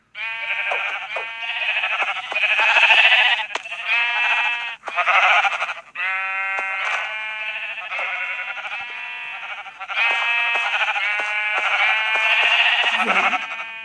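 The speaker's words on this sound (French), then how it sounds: "Et puis, vous les remplissez de moutons." Sheep in the Minecraft Pocket Edition video game bleat over and over in a loud, dense chorus of overlapping calls, continuing for the whole stretch with only brief dips.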